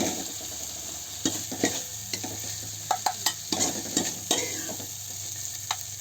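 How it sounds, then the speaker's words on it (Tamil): Tomatoes sautéing in a pan on a village cooking setup, a low steady sizzle broken by several scraping stirs of a spoon against the metal, close by with no talk. "வதங்கட்டும், தக்காளி நல்லா வதங்கட்டும்."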